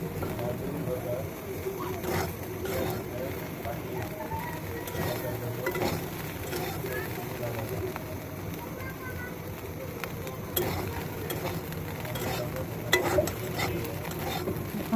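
Soybean chunks frying in a pan until reddish-brown, a low steady sizzle with occasional scrapes and clinks of stirring, close by and fairly quiet throughout.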